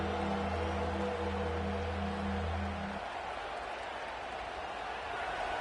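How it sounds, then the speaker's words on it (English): Stadium crowd noise from an Ohio State versus UCLA college football video game on third down: a dense, steady roar, with a low tonal hum underneath that cuts out partway through. "Decibels rising as the crowd gets behind this defense on 3rd down."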